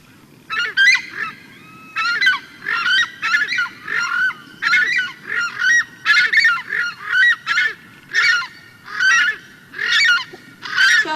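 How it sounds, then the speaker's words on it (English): A Southern Screamer calls in loud, honking bursts, repeating in a steady series of about a dozen, harsh and goose-like, close by with faint background noise between them. "It is called the Southern Screamer."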